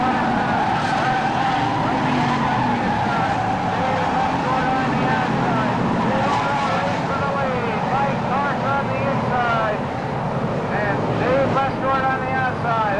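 Race cars at Claremont Speedway during weekly racing roar continuously in a two-car battle for the lead, the engine whine rising and falling as they pass, loud and constant under an announcer's talk.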